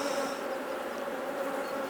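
Honey bees hum around an open hive with a checkerboard box arrangement, a dense, continuous close buzz from many insects with no breaks and no talking.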